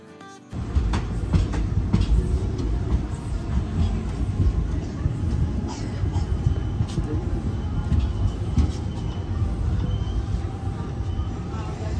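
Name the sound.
passenger train running, heard on board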